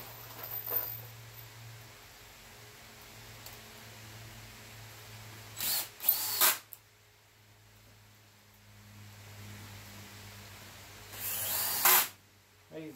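A power drill drives screws into the wooden frame of a homemade rodent rat rack, with two short, loud bursts of whirring and a longer burst near the end over a low steady hum.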